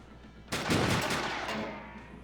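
A single loud, near gunshot in the steampunk video game SteamWorld Heist, a sharp crack followed by a long booming tail that slowly fades over a couple of seconds.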